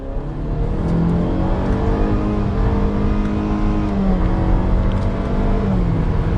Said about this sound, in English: this will be a pedal to the floor acceleration